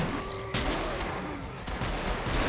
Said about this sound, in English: That shotgun is just unbelievable.